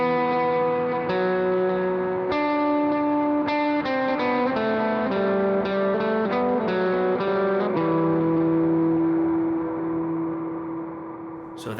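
Electric guitar played through a washy reverb preset on a worship pedalboard: sustained chords and single notes ring out in a long, loud, shimmering tail that smears each phrase into the next, with no talking.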